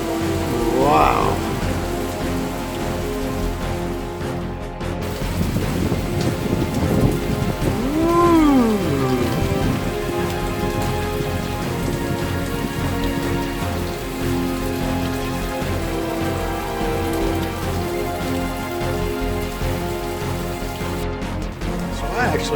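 Heavy rain and wind from Hurricane Dorian in Charleston roar steadily and loudly throughout, a dense continuous wash with occasional gusting swells and a few creaks.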